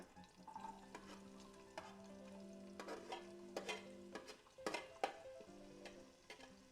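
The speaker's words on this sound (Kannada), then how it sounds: "ಇದೊಂದು ಸ್ವಲ್ಪ ನೀಟಾಗಿ ಫ್ರೈ ಆಗಲಿ ಎಣ್ಣೆಯಲ್ಲಿ" Onion and turmeric with curry leaves frying in hot oil, a soft steady sizzle broken by sharp scraping and clinking of a spatula stirring against the pan, fairly quiet and close.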